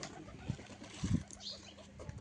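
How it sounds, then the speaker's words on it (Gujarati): Pigeons give soft, low coos in short bursts, fairly close but quiet, against a faint background hiss with no talking. "જો સરસ મજાના કબૂતર છે અહીંયા."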